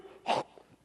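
A voice imitates coughing and hacking with one harsh, throaty burst followed by softer breathy sputters. It is close and brief, and a second rough burst starts at the very end.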